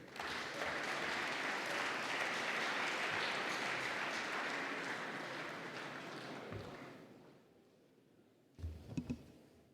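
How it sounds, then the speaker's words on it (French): Audience applause welcoming the Air France CEO to the stage, dense and steady for several seconds before thinning and dying away, followed by a brief low thump and rustle. "Merci de l'applaudir."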